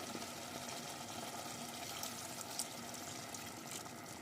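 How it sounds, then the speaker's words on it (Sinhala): A cup of water left from boiling vegetables poured into a pot of ragu sauce, giving a steady close-up pouring wash that runs without a break. "මේ විදිහට වතුර කෝප්පයක් එකතු කරන්න. අපි එළවලු තඹගත්තු වතුර."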